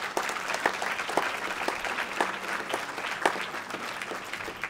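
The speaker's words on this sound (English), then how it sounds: "Let's give our superintendent an awesome round of applause." Audience at a school board reorganization meeting gives the superintendent a round of applause, moderate and steady clapping from a roomful of people with a few sharper individual claps standing out.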